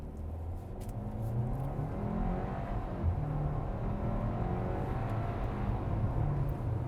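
A 2024 Hyundai Kona N Line with a 1.6-liter turbo four-cylinder accelerates hard without launch control, its engine note rising steadily and holding loud for several seconds, heard from inside the car with no talking.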